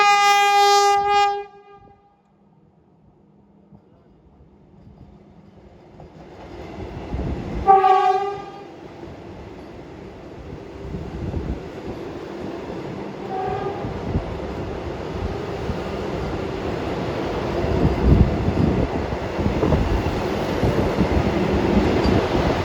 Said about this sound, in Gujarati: ટ્રેન અત્યારે આવી રહી છે